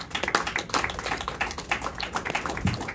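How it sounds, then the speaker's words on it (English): Audience applause at a stand-up comedy show, a steady patter of many hands clapping fairly close, sustained through the full stretch with no talk over it. "Keep that applause going."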